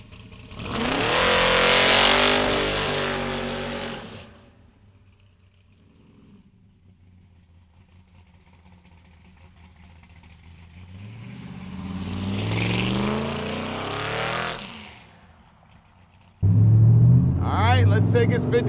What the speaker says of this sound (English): Let's take his 57 Chev for a ride.